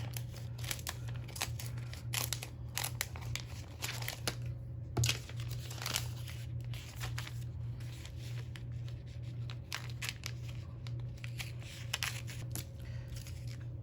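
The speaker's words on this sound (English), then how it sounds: "So now I'm also going to kind of cut along each edge." Scissors snip along the edges of clear acetate packaging for a holiday shaker card, a steady run of close, crisp cutting and crinkling sounds with no talking.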